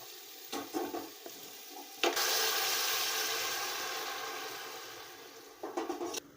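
Hot water poured into sautéed potato curry in a pan sets off a loud, sustained hiss that rises sharply and then slowly fades, with brief clatters of stirring before and after.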